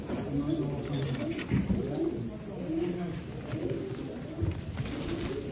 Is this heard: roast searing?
no